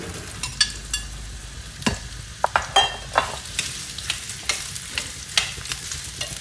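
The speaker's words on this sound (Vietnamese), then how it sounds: "Chảo dầu cũng đã nóng rồi, mình cho nấm rơm vô mình xào." Straw mushrooms are stir-fried in hot oil in a pan, with a steady sizzle broken by sharp scraping clicks of a utensil tossing them at irregular intervals.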